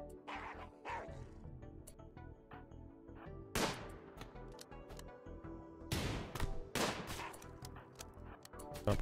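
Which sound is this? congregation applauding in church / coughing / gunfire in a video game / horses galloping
gunfire in a video game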